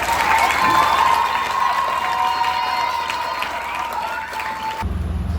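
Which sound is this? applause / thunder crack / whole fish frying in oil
applause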